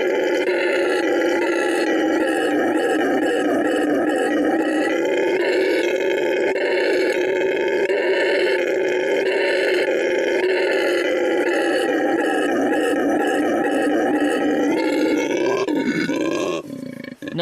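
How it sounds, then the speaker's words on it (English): A recorded howler monkey call plays as a loud, sustained, deep roaring drone with a rough growling texture that barely pauses for about sixteen seconds before cutting off abruptly. "You ever hear a howler monkey?"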